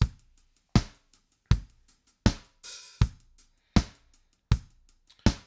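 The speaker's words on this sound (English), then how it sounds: "Today we're going to take what seems like a pretty straightforward loop with just kick, snare and hi-hat." A Groove Agent 5 studio kit plays a straightforward acoustic drum loop. Kick and snare hits fall on a steady, evenly spaced beat with lighter hi-hat ticks between them and a brief washy cymbal near the middle. The loop is close, clean and without voices.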